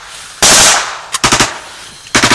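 Gunfire from soldiers at a Ukrainian checkpoint in the ATO zone, November 2014: one long, loud automatic burst, then a short pop and two quick, close rattling volleys of several shots each.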